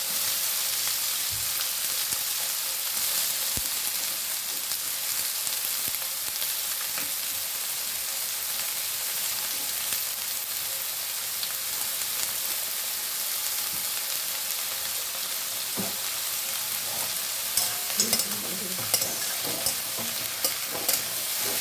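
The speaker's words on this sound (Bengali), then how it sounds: "পেঁয়াজটা ভাজতেই যা একটু সময় লাগবে" Onions fry in hot spiced oil in a pan for chicken kosha, giving a constant crackling sizzle with scattered stirring knocks, steady and close throughout.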